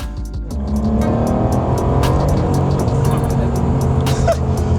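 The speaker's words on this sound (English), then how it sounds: "it actually just spun its wheels at 70 miles an hour" An Aston Martin Vantage spins its wheels at 70 mph. The engine roars loudly while tyre noise and sharp ticks and clicks sound through it. No one speaks.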